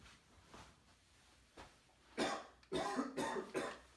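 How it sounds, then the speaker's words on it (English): A few faint throat sounds, then several loud, harsh coughs in quick succession, close to the microphone with no talking. "Do you hear that coughing?"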